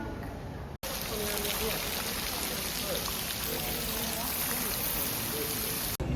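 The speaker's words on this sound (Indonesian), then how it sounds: "ada air-air yang terus continuously berjatuhan buat bikin si hujan buatannya" Artificial rain at the CosmoCaixa science museum pours down in a steady, dense hiss, loud and continuous throughout, broken only by brief cuts.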